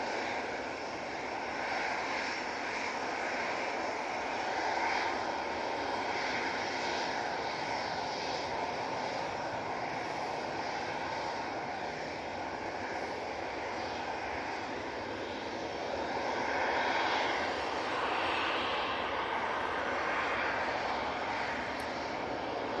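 A departing airliner at Manchester Airport roars steadily throughout, a broad continuous engine rumble that swells slightly toward the end, heard from a distance with no voices.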